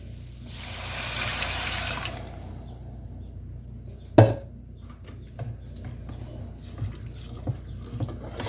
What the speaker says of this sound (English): Pour in the rest of your chicken stock.